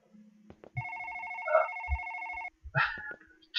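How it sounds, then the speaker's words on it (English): A video game telephone rings with a steady two-tone electronic trill for about two seconds, surrounded by short thumps and brief muffled noises. "Is that my phone?"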